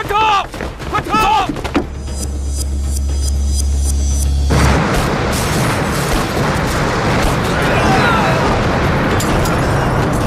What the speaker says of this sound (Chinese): 好像是永兴码头爆炸了